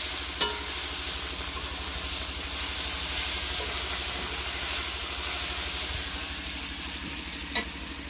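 Garlic paste fries in a pan after onions, a steady close sizzle with occasional stirring scrapes and clicks, over a low hum in the background.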